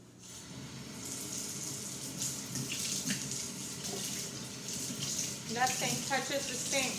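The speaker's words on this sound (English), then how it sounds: "Roll up the sleeves a little bit so I can do the aseptic hand wash." A sink tap runs steadily during an aseptic hand wash, giving an even, close splashing hiss throughout with a few brief clatters near the end.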